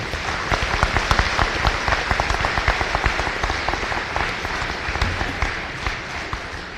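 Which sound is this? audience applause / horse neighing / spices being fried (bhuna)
audience applause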